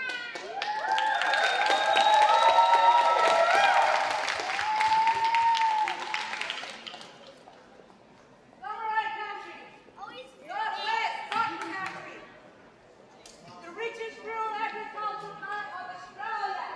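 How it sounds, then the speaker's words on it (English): Audience applause at an outdoor pop-up event rises as steady, fairly loud clapping for several seconds, then gives way to a voice singing or speaking with short bursts of sound between phrases. "As my dear countrywoman, Gwenda, what a great round of applause."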